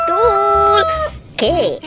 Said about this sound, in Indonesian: Ini ada ayam berkokok teman-teman nih.